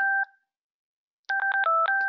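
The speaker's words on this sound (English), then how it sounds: "Starts ringing my radio" Two-way radio ringing with an incoming SmartPTT job ticket: a short dual-tone beep, a pause, then a rapid series of loud electronic beeps.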